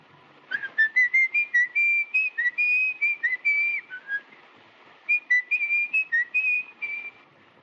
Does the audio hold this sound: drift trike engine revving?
no